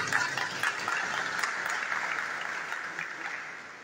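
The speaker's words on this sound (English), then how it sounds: "A round of applause." Moderate applause from an audience at a formal lecture event, a steady patter of clapping lasting a few seconds and fading slightly toward the end, somewhat distant.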